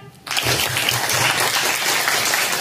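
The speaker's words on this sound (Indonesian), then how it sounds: "Oke, tepuk tangan." A classroom of students bursts into sustained applause after a brief quiet start, the clapping dense, close and steady for the rest of the clip.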